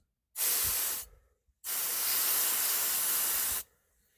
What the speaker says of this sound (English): I'll see if I can use some compressed air just to clean it out, just to be sure